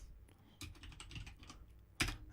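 Typing on a computer keyboard comes as quiet, close clicks in a quick cluster, ending with a single louder thump near the end, with no one speaking.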